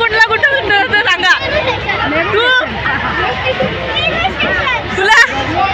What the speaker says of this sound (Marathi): ट्रेन गाडीत बसायला उरी गर्दी